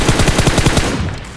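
Automatic gunfire in the battle royale game PUBG during a tournament match, a rapid burst of about eight close, loud shots in even rhythm that stops abruptly, followed by a brief fading tail.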